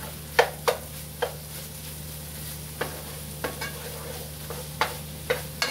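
Eggs sizzle and fry in a pan while a utensil stirs and scrapes through them, the scrapes arriving as a dozen or so irregular strokes over a steady background hum.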